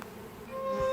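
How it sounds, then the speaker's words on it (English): Bees buzz softly nearby in a short, steady drone that grows slightly louder toward the end. "listen to the bees when they're buzzing about like this"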